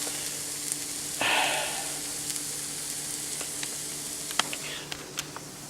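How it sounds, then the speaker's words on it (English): Sausage and hash browns fry in oil on a griddle, giving a steady close sizzle with scattered pops and crackles. A louder hissing surge rises briefly near the start, then settles back. "I got to put some more oil on this griddle so that my hash browns can brown up and the sausage can brown up"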